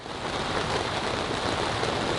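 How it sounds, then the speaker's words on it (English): Steady rain pours down on a boat during a storm, a dense, continuous hiss of drops drumming on the deck and surfaces, loud and unbroken throughout with no voices. "Well, it started raining, but the wind didn't pick up at all."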